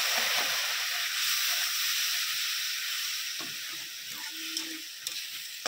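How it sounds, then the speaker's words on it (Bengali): Chicken masala for kosha hisses loudly in a pan just after water is poured in, a dense close sizzle that slowly eases toward the end, with no voices. "মশলাটা যাতে না পুড়ে যায় দিয়ে দিচ্ছি জল"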